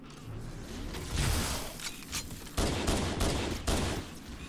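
Gunfire in Halo: Combat Evolved Anniversary, several loud bursts of automatic shots separated by short pauses, close and without talk.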